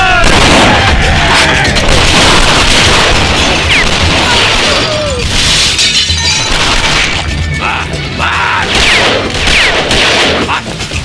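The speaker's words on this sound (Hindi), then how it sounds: "इतनी फायरिंग हो रही थी" Dense, loud gunfire and shattering impacts fill an action scene in the South Indian film Bheema Nayak, sustained throughout with bursts and booms amid a busy film mix, with some voices underneath.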